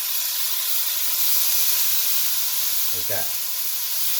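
Dark soy sauce hitting hot stir-fry noodles and vegetables in a pan, a steady loud sizzle and hiss throughout with a brief spoken phrase near the end.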